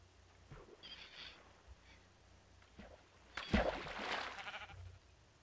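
Sheep bleating in a video game near a pond, a faint short bleat early on followed by a louder, drawn-out bleat later, with quiet background in between.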